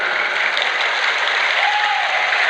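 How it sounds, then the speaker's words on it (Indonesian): A large crowd applauds at an Indonesian religious gathering where a Nahdlatul Ulama speech is under way, a loud, even and unbroken roar of clapping with no pauses. "Tepuk tangan."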